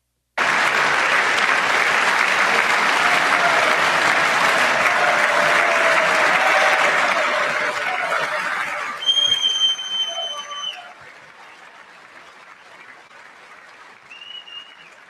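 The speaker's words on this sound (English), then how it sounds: "while they clap and look at the people not clapping" Loud, sustained clapping from a large audience at a State of the Union address fills the first nine seconds, then thins out as a few whistles and crowd noise linger.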